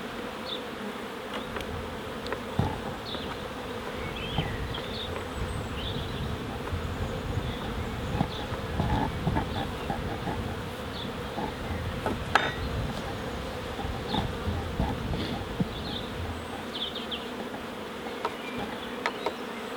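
Honeybees buzzing steadily around a managed hive during a UK swarm-prevention inspection, a dense close hum of many flying insects with small clinks of hive parts, no talk.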